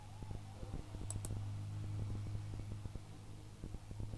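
Computer mouse clicks while navigating a browser security warning page, several sharp, quiet clicks close by over a low steady hum.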